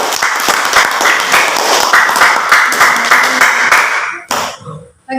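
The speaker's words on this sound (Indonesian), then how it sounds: "Kasih tepuk tangan dulu untuk kelompok 3." Students in a classroom give a group of presenters a loud, close round of hand clapping, brisk and dense before breaking off abruptly near the end.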